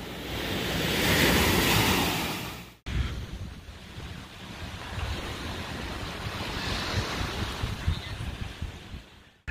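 Gulf ocean waves wash onto the beach at Treasure Island, Florida, with a loud surge that cuts off abruptly, then a softer continuous roll of surf and buffeting wind.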